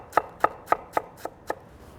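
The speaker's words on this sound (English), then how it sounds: "We're gonna mince up some of this baby iceberg lettuce to go on top." A knife mincing baby iceberg lettuce on a board, six crisp evenly spaced chops about a quarter second apart, close and clean with a quiet background and no talking.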